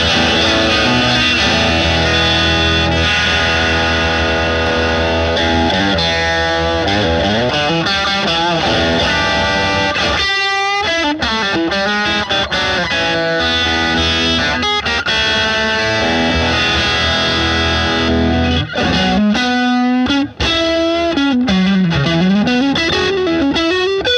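A Marceau Telecaster-style electric guitar played through its rear pickup gives a bright, twangy tone with distortion and chorus-like effects, running loud and continuous with sustained chords and single-note bends.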